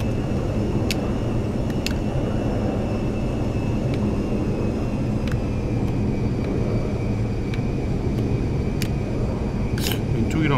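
Airplane engine in GTA 5, a steady droning hum with a faint whine, accompanied by occasional clicks and ticks, running continuously at a moderate level with no voice over it.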